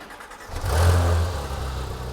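A Porsche GT3 engine cranks and fires up on its standard exhaust with the valves open, swelling into a loud, close, rumbling rev that then settles into a steady, throaty idle, with no voices over it.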